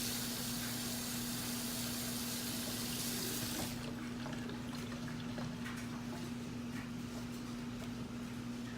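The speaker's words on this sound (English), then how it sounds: "Let me rinse my hands real quick." Tap water runs steadily over hands at a kitchen sink for the first few seconds, a broad rushing hiss that then stops, leaving a steady appliance hum with small clinks and handling sounds.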